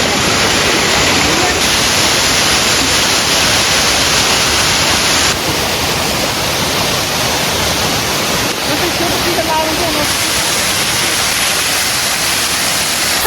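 Steady broadband rush of a waterfall on an outdoor field trip, loud and continuous throughout with a faint voice or two murmuring beneath the constant roar.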